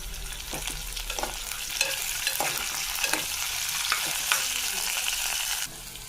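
Soy chunks and green peas are stirred and fried in a pan for vegetable pulao, giving a steady close sizzle with scattered scraping clicks from the spoon, all continuous with no talking.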